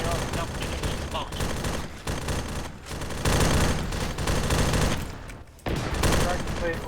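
Dense Arma 3 gunfire, sustained automatic bursts and volleys mixed with heavy rocket strike impacts, stays loud and continuous with brief dips in intensity.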